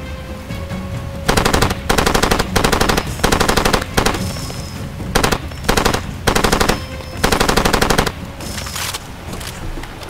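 Automatic weapon fire in the video game Far Cry 2: repeated loud bursts of rapid shots, about eight in a row separated by short pauses, with a steady background hum of game ambience and no talking.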